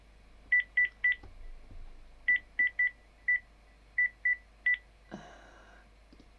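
Telephone keypad dialing tones for a phone-a-friend call on a retro quiz show: a series of short, clean beeps in uneven groups, nine or so presses, followed by a brief burst of line noise, alone with no talk.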